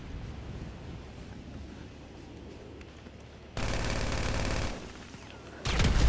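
Submachine gun fire in GTA V Online plays as dense, sustained bursts of rapid automatic shots, loud and close, over a noisy, rumbling game background, with a second burst starting near the end.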